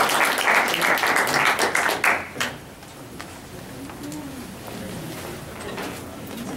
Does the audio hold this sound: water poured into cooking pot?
no